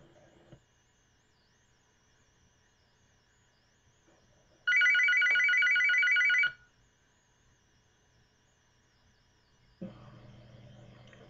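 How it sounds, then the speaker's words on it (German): A mobile phone rings in a short electronic burst lasting about two seconds, clear and steady against near silence, with faint background sounds before and after. "Dein Handy klingelt."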